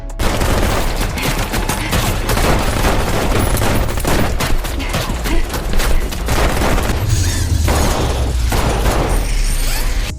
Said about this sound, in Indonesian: Terjadilah baku dor.